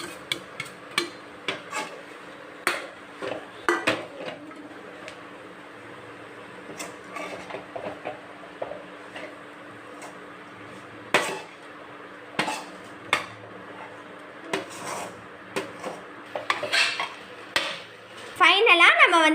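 Bread pieces tossed with spices in a pan produce repeated sharp metallic clinks and scrapes of a spoon against the pan, irregular and close, over a faint background hum.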